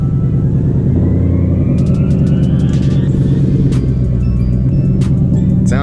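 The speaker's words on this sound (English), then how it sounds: "It definitely is louder since I've straight piped it." A straight-piped car engine drones loud and close from inside the cabin while driving, a steady deep rumble with engine tone rising slowly and some rattling clicks over it.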